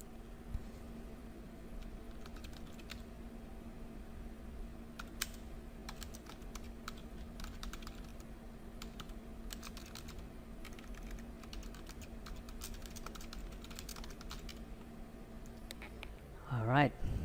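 Keys on a computer keyboard clack quietly in irregular bursts while someone writes their name into a Google Docs file, with a faint steady hum underneath and a short voiced sound at the very end.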